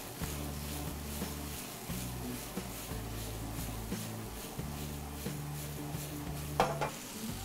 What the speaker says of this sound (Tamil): இந்த திக்கான சாஸ்ல நம்ம இங்க ஃப்ரை பண்ணி வச்சிருக்கிற காலிஃப்ளவரை இதல கொட்டறோம், கொட்டி இத டாஸ் பண்றோம்